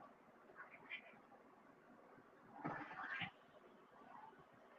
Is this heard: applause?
no